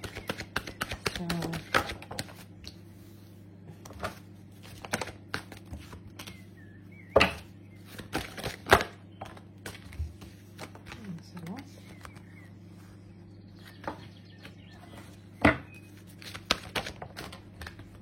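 A deck of cards being shuffled slowly by hand, with scattered soft riffles, taps and flicks at irregular intervals over a low steady hum.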